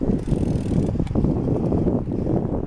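Cannondale bicycle rolling along a dry road on a cold day, with a steady whir of tires and drivetrain under heavy gusts of southwest wind buffeting the microphone, continuous and close.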